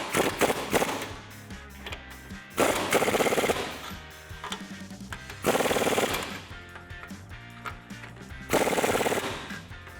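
Power impact tool tightening the rear lift block bolts on a 2005-2021 Toyota Tacoma, several loud rattling hammering bursts of about a second each, separated by short quieter gaps, close by.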